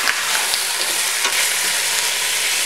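Pork belly fries in a pan over medium heat with a steady, loud sizzle, and a few faint stirring scrapes break through the constant hiss.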